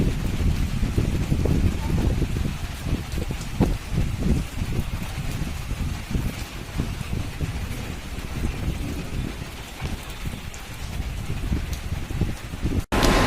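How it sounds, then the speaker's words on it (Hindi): Heavy afternoon downpour after a sudden change in the weather, a dense, steady hiss of rain on surfaces that stays loud and continuous throughout, with some gusty wind rumble. "शुक्रवार की दोपहर अचानक मौसम ने अपना रुख बदला और झमाझम बारिश आरंभ हो गई।"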